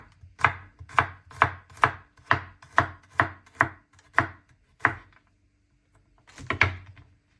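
Garlic being chopped on a board, about ten evenly spaced knife thuds in a steady rhythm, a pause, then a final cluster of cuts, close and clear.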